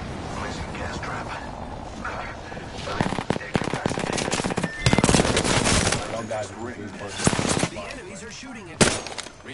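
Rapid automatic gunfire in the video game Apex Legends crackles in repeated bursts, with single shots and mechanical clicks between, while players talk over the action.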